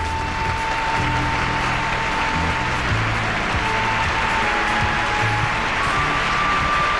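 Audience at the Miss Universe 1994 pageant applauding, a steady dense wash of clapping that holds without a break from start to finish, with faint tones beneath.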